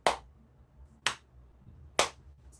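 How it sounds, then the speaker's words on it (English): Three separate single hand claps about a second apart in an untreated room, each a sharp, dry crack that dies away quickly with little reverb, heard alone against a faint low hum. "If I just clap"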